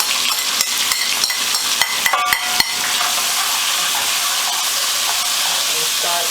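Onions and peppers sizzle steadily in hot oil over medium-high heat, with a few sharp clinks and scrapes of stirring near the start before the frying hiss settles into a constant, close, fairly loud sizzle.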